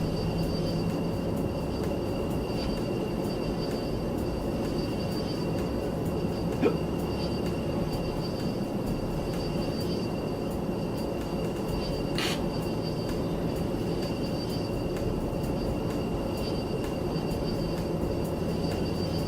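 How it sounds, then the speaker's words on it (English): Airplane flying in the video game Three-D Velocity, a steady, continuous engine drone that holds evenly throughout, with a faint brief click partway through and no talking. "Just flying a fucking plane."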